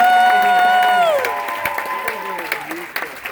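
A crowd at a cruise ship newlywed game show claps and cheers while a bright musical sting plays over it and then fades. The applause carries on in scattered bursts underneath, and a voice can be heard briefly.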